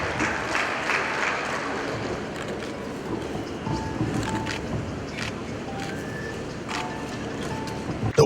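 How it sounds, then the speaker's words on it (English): An audience at a university's 40th anniversary jubilee celebration gives a round of applause, a moderate, fairly distant clapping wash that tapers slightly over several seconds. "A round of applause is in order."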